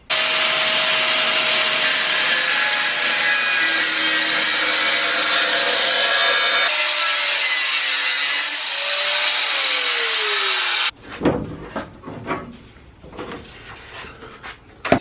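A power tool, likely an angle grinder, whines loudly and continuously as it cuts through a truck chassis, its pitch shifting under load, then stops, leaving scattered clanks and handling noises.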